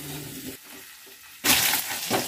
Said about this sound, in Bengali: এই যে এবার পনিরগুলো দিয়ে দিচ্ছি তেলের মধ্যে